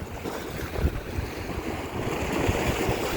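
Wind and surf roll along the seafront at Central Beach, Blackpool, a steady broad roar of waves with blustery gusts and no voices.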